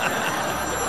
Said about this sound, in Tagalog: Ano na naman yan tumatawag na yan?